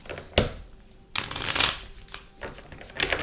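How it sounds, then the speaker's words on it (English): Tarot cards being shuffled nearby in several quick riffling bursts, with short pauses between them and no talking. "One more shuffle."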